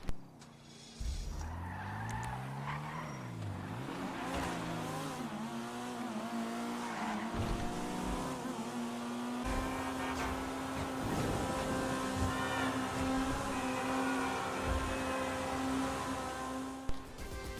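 A Ford Focus RS driven in GTA roars through gears with rising and falling engine revs, tire squeals and skids, loud and continuous with no talk.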